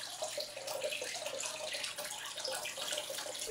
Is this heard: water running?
yes